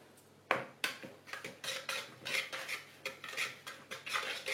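Dry pastry ingredients, including icing sugar, stirred in a bowl for a quince Tatin tart, giving a steady series of close scraping, clinking utensil strokes against the bowl with no talking.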